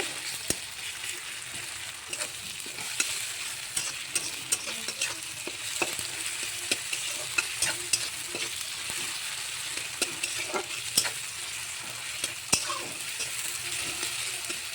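Tomatoes frying in a pan until soft, a steady close sizzle with faint crackles and scattered scraping stirs, no voices.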